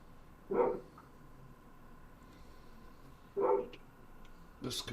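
A dog barks twice outdoors in the early morning, two short mid-pitched bursts spaced about three seconds apart over a steady background hum, followed by a brighter, sharper sound at the end.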